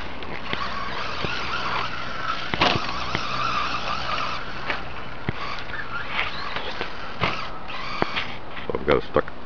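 Radio-controlled car with a stock electric motor running laps on a track, a thin whining motor buzz with tire scrubbing and sharp clicks, steady and close, with people talking over it.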